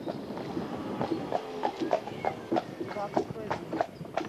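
Horse hooves clip-clop steadily at a walking pace while pulling a carriage on a road in Ireland, a regular rhythm of hard knocks that carries close by under voices talking.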